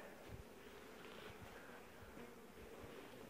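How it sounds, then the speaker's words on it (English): Bees in a beehive box give off a steady, dense buzzing hum, loud and close, constant across the whole stretch with no voices over it. "Box is like buzzing like crazy."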